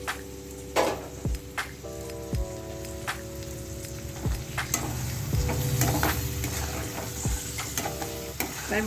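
Spice masala for fish biryani, with sugar and chopped coriander leaves added, stir-fries in a pan with a steady close sizzle and repeated clinking, scraping strokes of a spoon.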